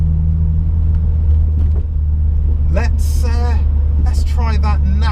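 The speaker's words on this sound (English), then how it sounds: "let's take a left in a minute and go down the roads that I like to test cars on" Car with iBack springs and added bracing drives along a favourite test road, a low steady engine and road rumble heard from inside the cabin, with someone talking over it in the second half.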